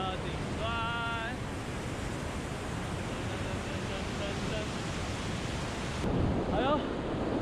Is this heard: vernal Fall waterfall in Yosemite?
yes